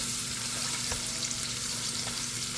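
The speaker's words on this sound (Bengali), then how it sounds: "সাথে আমি পাঁচফোড়ন দিয়ে দিব। পাঁচফোড়নটা একটু পুটপুট করলেই" Panch phoron spices crackle and sputter in hot oil for a mango and jalpai pickle, a steady close frying sizzle with a few sharp pops and a low hum underneath, no talk.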